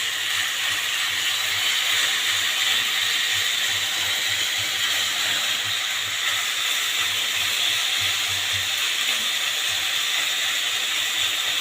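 Onions frying with Syrian shawarma meat in a hot pan, a steady bright sizzle and hiss that holds evenly and close for the whole stretch, with no talk.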